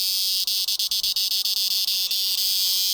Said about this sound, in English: this is a cicada, and it's got to be one of the noisiest denizens of the rainforest.